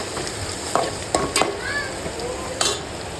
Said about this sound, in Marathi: आपला कांदा परततो आहे मस्त